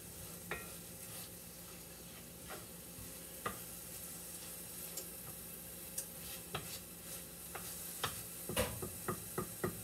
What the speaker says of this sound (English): Give the meat a little stir.